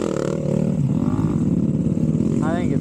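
2021 Yamaha YZ250 two-stroke dirt bike revving loudly nearby with a buzzy, climbing and dropping engine note, a person's voice faintly mixed in beneath it.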